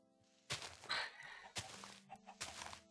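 Chickens cluck in the video game Minecraft, three short, sharp bursts of squawking spaced about a second apart over a quiet background.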